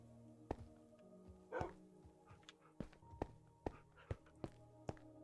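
Several Minecraft dogs bark in short, separate yips and woofs, about eight spread unevenly over a few seconds, with one louder whimpering bark near the start, fairly close and clear with no talking.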